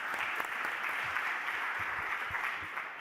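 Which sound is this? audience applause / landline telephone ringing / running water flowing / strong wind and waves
audience applause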